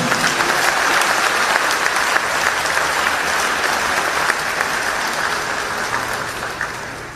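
An audience at the La Rouah 2019 convention applauds Saint Padre Pio with sustained, dense clapping that fills the hall, loud and steady before fading slightly at the end.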